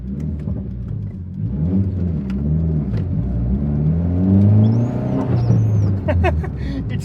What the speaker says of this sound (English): It's so much fun to drive this car.